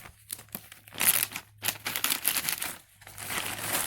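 Apple scionwood cuttings slide into a plastic bag, producing close, irregular bursts of crinkling and rustling plastic separated by brief quiet gaps, with no talking.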